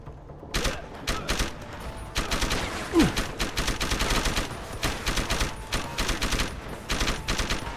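Rapid, continuous bursts of gunfire in Deus Ex: Human Revolution during a gang war, loud and dense, with volleys of automatic shots crackling throughout.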